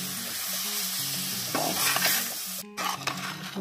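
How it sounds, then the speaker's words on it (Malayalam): A pickle mixture with spices stirred in a pan, the spoon scraping repeatedly over a steady sizzle, fairly close and with no voices. "ഇനി എല്ലാം നന്നായി ഒന്ന് മിക്സ് ചെയ്ത് കൊടുക്കുക"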